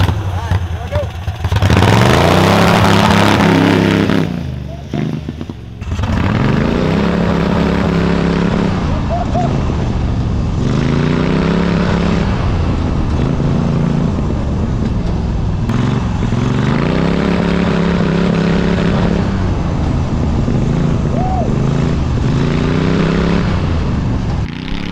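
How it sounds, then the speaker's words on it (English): A 999cc V-twin go-kart engine bounces repeatedly off its rev limiter, producing a loud, near, stuttering buzz in a regular pulsing rhythm after an early roar and a brief dip. "That's the rev limiter you're hearing."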